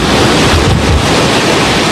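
Stormy water and strong wind at a dock lined with boats, a loud continuous roar of surf-like wash and buffeting gusts filling the whole span, broadband and steady with no voices.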